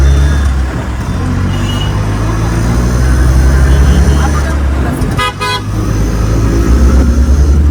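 An auto rickshaw ride through Kolhapur traffic, with a loud, constant engine rumble and road noise close up and a quick cluster of horn toots near the middle, with voices talking over it.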